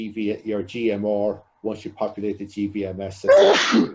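A single sharp sneeze bursts out near the end, loud and close, right after a stretch of steady male speech during a Brexit customs briefing session.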